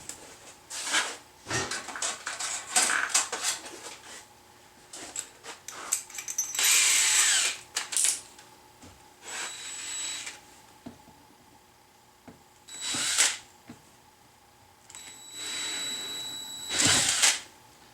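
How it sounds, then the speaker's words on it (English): Power drill boring through a plastic gas can spout, stepping up through bit sizes; several bursts of whining drilling separated by pauses, with short rising pitched runs near 7 and 17 seconds, close and moderately loud with no talking. "Plastic tends to grab with drill bits, so you have to be really careful when drilling it."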